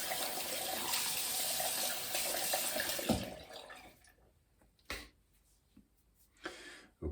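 Tap water runs steadily to rinse off shaving lather, then shuts off after about three seconds, leaving a quiet stretch broken by a few short splashes and knocks at a sink.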